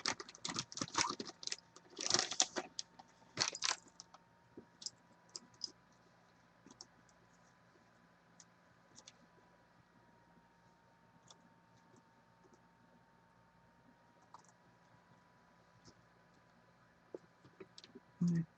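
Loose keycaps are pressed back onto a typewriter: a flurry of sharp, close clicks and snaps in the first few seconds, then sparse, faint taps over a quiet background, with a couple more clicks at the very end.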